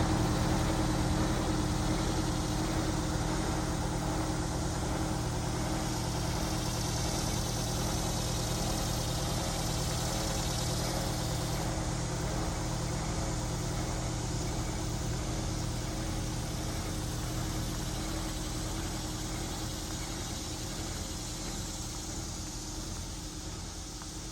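A cold Detroit Diesel engine with DDEC2 controls in a Prevost bus that is down on power runs with a steady, loud, low drone. The rumble stays even throughout, with a slight easing toward the end and no talk.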